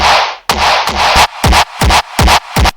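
A punchy electronic snare with heavy processing, first a long sustained hit, then four sharp, evenly spaced hits with a gated, noisy tail.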